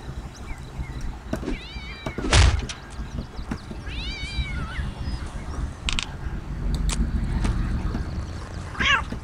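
A cat meows a few times in the video game Postal 2, wavering cries standing out clearly over game background noise with a sharp thump partway through.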